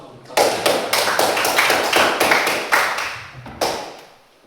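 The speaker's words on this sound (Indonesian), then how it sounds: "Kita berikan aplaus" Applause in a classroom or training session, several people clapping in a steady, fairly close rhythm for a few seconds before it fades out.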